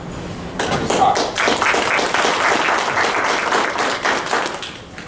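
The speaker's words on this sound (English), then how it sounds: "I always appreciate applause when I come to the podium" An audience at a law enforcement breakout session breaks into steady applause after a brief quiet start, clapping filling the room for several seconds before slowly tapering.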